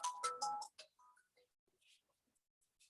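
A phone ringtone plays as a short burst of bright melodic tones at the start, then fades into faint scattered clicks in a quiet room.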